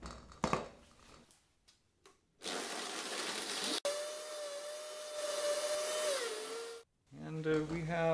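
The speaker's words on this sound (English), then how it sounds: "you can throw everything into a strong blender." A strong blender whirs loudly while chopping plant material in solvent, running in bursts of several seconds with clear stops between, and a person speaks briefly at the start and end.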